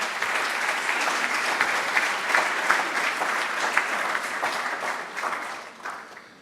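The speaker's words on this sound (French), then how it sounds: "Et j'aimerais qu'on les applaudisse." An audience at a school education-network presentation applauds steadily for several seconds, a dense patter of many hands clapping that tapers off slightly at the end.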